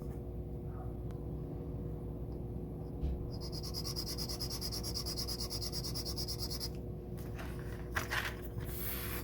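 A part being dragged back and forth over sandpaper with uneven pressure while refitting a Miranda Hornet, a steady close rubbing rasp over a constant low hum, with a brighter scraping stretch in the middle.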